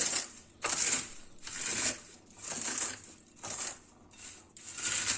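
A bag of Doritos chips is crushed by hand in repeated bursts of loud, crisp crackling and crunching, separated by short pauses, close up with no talking.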